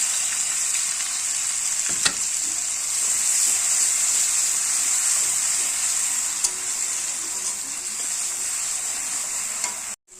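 Poppy seed paste with chilli paste and turmeric fries in oil in a wok, a loud, even hiss that runs nearly unbroken, with a couple of brief knocks and a sudden cut-off at the end.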